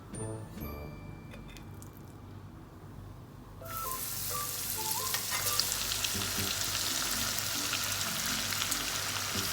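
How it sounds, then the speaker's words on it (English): Hot oil sizzles and crackles steadily as coated chicken strips fry, growing louder and brighter partway through as the chicken is added, with a few faint clinks and beeps early on. "Now I will show you how to fry the chicken."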